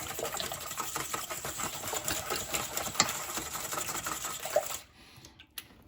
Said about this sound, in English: of butter, melted butter, and then get that liquid all incorporated. Again, can't say enough about this spring style whisk.